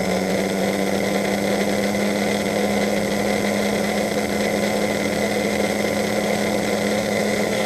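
An older Tomy Turbo toy driving game runs with a steady, even mechanical whir and hum, moderately loud and unbroken, with no voices.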